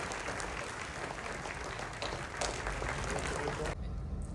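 An audience claps continuously, a dense, steady wash of applause at moderate loudness that stops abruptly near the end.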